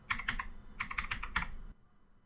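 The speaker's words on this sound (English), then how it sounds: "And now on the run dialog box, simply type" Quick bursts of keystrokes on a computer keyboard, two clusters of close, crisp clicks typing a short command, then quiet.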